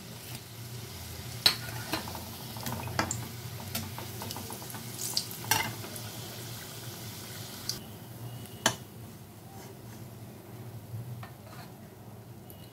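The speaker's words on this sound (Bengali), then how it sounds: "আমার এই কাঁকরোল পুরগুলো ভাজা হয়ে গেছে।" Stuffed kakrol (spiny gourd) fry in oil with a soft, continuous sizzle, broken by sharp occasional pops and clinks of a utensil against the pan, fairly quiet and without talk.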